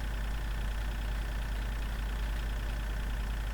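Tractor in Farming Simulator 2013 driving along, a steady, close engine drone with heavy low rumble and an even, unchanging tone throughout.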